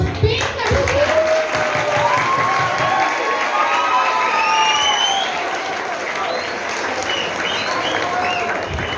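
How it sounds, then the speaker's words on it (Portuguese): A school literary event audience gives warm, sustained applause mixed with cheers and children's shouts, loud and continuous throughout, with some voices calling out over the clapping. "Vamos dar uma salva de palmas bem carinhosa."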